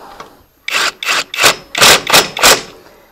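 Topshak TS-PW1 impact wrench tightening a screw: six short, loud rattling bursts in quick, uneven succession, each under half a second, with brief pauses between them.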